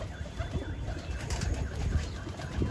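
A pigeon coos softly a few times over a low murmuring background, close by, with faint bird rustling and no clear speech.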